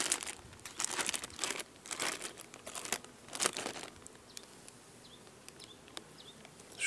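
Plastic packets crinkle in bursts as they are laid at beehives in an apiary, with bees buzzing around throughout; the crinkling fades to quieter buzzing and faint rustles in the second half.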